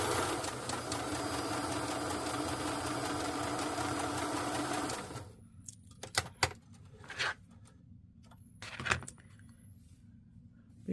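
A sewing machine stitches fabric in a steady, close, whirring run for about five seconds, then stops, leaving faint handling clicks and a couple of soft knocks.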